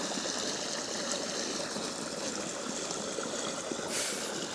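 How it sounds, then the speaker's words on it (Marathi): Irrigation water runs through narrow channels in a village farm field, a soft, continuous rushing gurgle heard close by, steady and fairly faint with no speech. "बघा त्या साईडला पण पाणी चाललं आहे आणि इकडच्या फटीमध्ये पण पाणी चाललं आहे."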